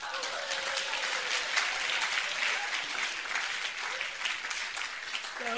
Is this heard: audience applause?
yes